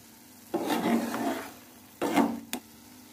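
Hot ghee sizzling and scraping as egg halwa with khoya is stirred in a pan, two bursts of frying hiss with a short pause between, close and moderately loud.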